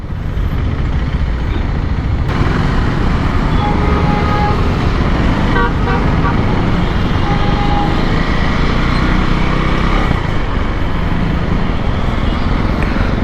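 A KTM Duke 390 gen 3 motorcycle rides along a highway. Loud, constant wind roar and road noise dominate throughout, with a brief horn-like toot partway through.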